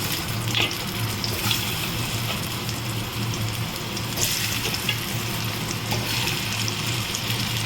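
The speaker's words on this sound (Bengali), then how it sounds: "এখানে আমি তেল গরম করেছি। এবার আমি আলুগুলো ভেজে নেব।" Potatoes fry in hot oil with a steady, dense sizzle and crackle that carries on loudly and close throughout, with no talking.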